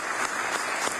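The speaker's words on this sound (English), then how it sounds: "I do think we should all give them a big round of applause and a big thanks for the work that they have done." A legislative chamber fills with steady applause from many hands, a dense, continuous clapping that holds at even volume for the whole second.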